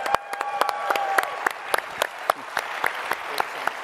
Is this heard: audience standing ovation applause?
yes